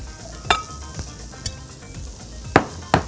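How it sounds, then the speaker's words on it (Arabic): Shrimp sizzle steadily as they grill in a pan, with a continuous close fry broken by several sharp clinks and scrapes as they are turned, no voices. "عايزين نقلب بس الجمبري عشان ابتدى خلاص من الجنبين يستوي، عايزينه يتحرق"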